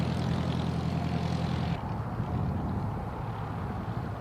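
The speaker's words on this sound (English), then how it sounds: "we got a real plane taking off today at the field" A real propeller plane takes off from a private runway shared with a model-aircraft field, a steady droning engine at a distance with wind buffeting the microphone.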